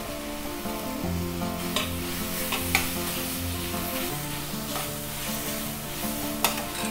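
A handful of mint sautéing with masala and tomatoes in a pan for cauliflower rice: a continuous close sizzle with occasional scrapes of stirring, and a steady tonal hum or music faintly underneath.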